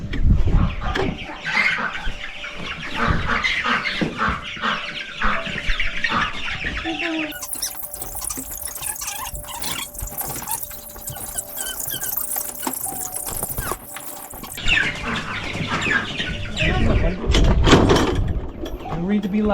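Chickens being moved onto pasture cluck and squawk close by amid clanking, ratcheting mechanical noises, with children and adults talking intermittently over the birds.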